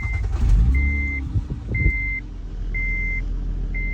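A misfiring Acura TL Type S, whose catalytic converters have failed, starts up and settles into a low engine rumble up close, while a steady beeping tone repeats about once a second over it.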